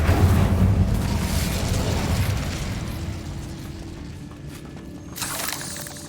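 Incendio fire spell cast in Hogwarts Legacy, a loud whooshing burst of flame with a deep rumbling boom that fades into a crackling tail, then a brief flare near the end.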